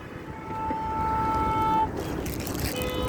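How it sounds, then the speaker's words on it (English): A car horn sounds at a busy traffic lane where drivers are supposed to turn right, one steady blast held for over a second over the rumble of passing traffic. "there's always honking here because see those ones that are on that lane, supposedly they're supposed to turn right"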